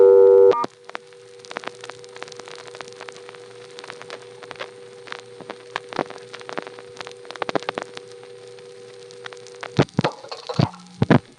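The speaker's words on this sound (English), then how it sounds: "I'm going to just end up with a coin return followed by a busy signal every time" Busy signal on a 1976 NX1 crossbar exchange, heard from a payphone after dialing star: a steady low two-tone buzz repeating alone for about ten seconds, with clicks and a short handset clatter at the end.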